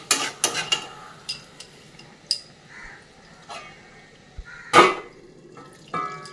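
Paneer being stirred into spices in a cooking pan, with a spoon scraping and clinking against the metal at intervals, a few sharper knocks, and no talking.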